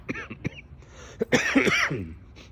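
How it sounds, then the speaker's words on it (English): A person coughs several times in short, close bursts, followed by a harsher, longer cough and throat clearing, outdoors on a chilly night at a prison museum courtyard. "I apologize for the coughing."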